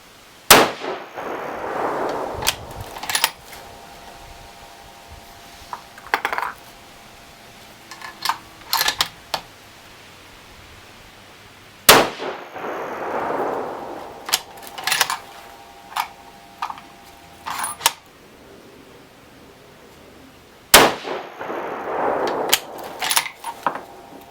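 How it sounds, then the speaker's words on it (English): A 6.5 PRC rifle fires loud, cracking shots spaced roughly ten seconds apart, each followed by a rolling echo, with scattered mechanical clicks and clanks between them. "let's just shoot a 5-shot group here,"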